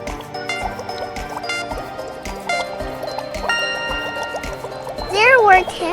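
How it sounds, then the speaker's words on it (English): Bubbling in a witch's cauldron, rendered as a run of bright, bouncy bubble pops over a light musical backing that ends in a quick rising-and-falling warble. "How many bubbles did you see?"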